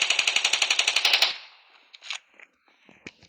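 A rapid burst of about fourteen automatic gunshots fires in the video game SK, then stops, followed by scattered clicks and faint game sounds.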